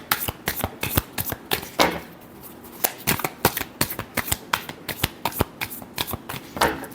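Tarot cards are shuffled by hand at close range, a quick rhythmic series of crisp riffling flicks and taps with a short pause partway through, loud and without talk.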